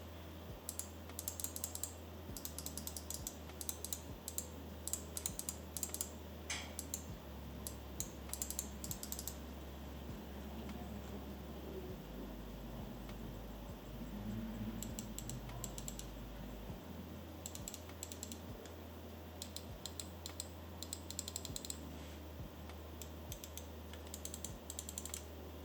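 Button clicks from an Xtrfy M42 gaming mouse, a steady run of crisp, close taps coming in quick clusters with short pauses, over a low constant hum and no talking.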